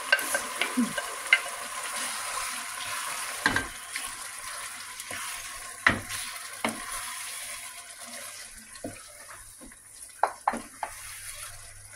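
Chicken fries with tomato in a pan for chicken kabsa, a soft sizzle under repeated scraping and clattering stirs from a utensil against the pan, close by.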